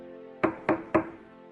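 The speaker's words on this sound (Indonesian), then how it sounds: "Lalu tiba-tiba terdengar suara ketukan pintu." Three quick, firm knocks on a door, close and clear, in an even rhythm against a quiet, faintly humming background.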